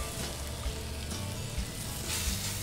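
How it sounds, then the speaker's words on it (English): Bacon sizzles in a frying pan for soup, a steady crackling hiss with small pops, close and moderately loud, with no talking. "So we're gonna start off with some bacon. And you hear it sizzle as soon as it hits the pan."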